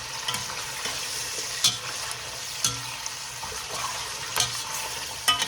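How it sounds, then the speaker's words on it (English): Beef shank stir-frying with plenty of fresh garlic in a pan, a steady close sizzle broken by sharp scraping stirs of a utensil about every second. "And I will continue to stir it like that."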